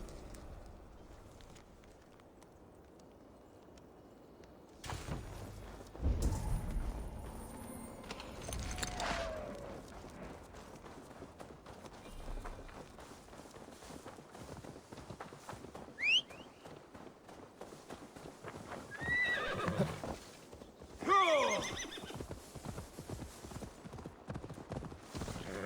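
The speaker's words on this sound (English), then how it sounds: "Now to deliver Magni his horse." Steady clip-clop of horse hooves at a walking pace in Assassin's Creed Valhalla, with a horse neighing briefly partway through amid game ambience.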